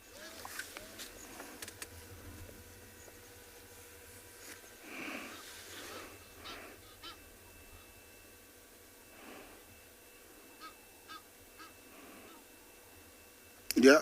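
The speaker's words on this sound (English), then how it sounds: "You can hear the Egyptian geese calling." Egyptian geese calling outdoors at sunrise on a safari, a few faint, scattered honks from somewhere off in the distance over a quiet background.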